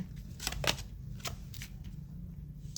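Tarot cards being shuffled in a few quick, soft riffling bursts at close range, with a faint background hum and no talking.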